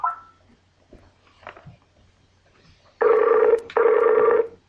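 Outgoing call ringing on a French radio show: two loud ring-back bursts close together after faint background shuffles and a brief earlier tone.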